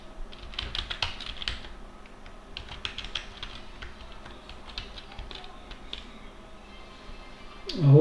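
Keys tapped on a computer keyboard while a 12-character password is entered, a quiet run of uneven clicks spread through the stretch, ending in a brief louder bump.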